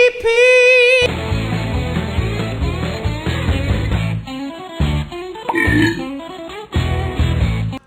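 Cartoonish burping sound effects from the Fred video game Camp Fred, several loud belches set over a busy, rhythmic game music track, with no talking.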